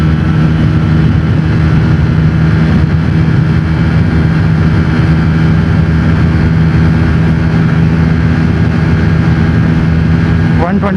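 A Bajaj Pulsar N160 motorcycle engine drones loudly and steadily while accelerating in fifth gear, with a constant low hum and buzzing overtones throughout.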